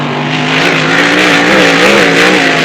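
An unlimited hydroplane racing boat roars past at the St George Speedboat Spectacular, with a loud, close, harmonically rich engine howl that holds and shifts in pitch as it sweeps by.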